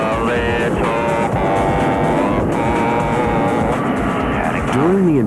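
Blue Angels jets flying wingtip to wingtip in a five-jet formation loop, a steady, loud jet roar with whining engine tones, continuous throughout and overlaid by a talking voice.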